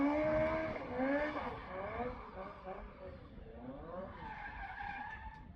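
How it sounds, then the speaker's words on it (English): A Lotus Cortina race car spins at a Scottish sprint championship event, its tyres skidding and squealing loudly in a long, wavering screech with engine noise beneath, easing slightly toward the end. "having an impressively smoky spin on Saturday afternoon"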